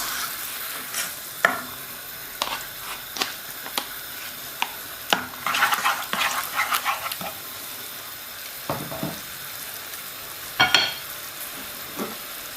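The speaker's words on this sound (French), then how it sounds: "On remue, la sauce prend la couleur." A spoon stirs a mushroom sauce with cream, parsley and stock in a pan, giving soft sizzling and scraping. Scattered clinks and swishes recur over about twelve seconds at close range, with no voice.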